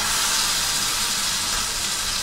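Pieces of rui fish hit hot oil in a pan, giving a steady, loud broadband sizzle and hiss that holds evenly throughout with no talking.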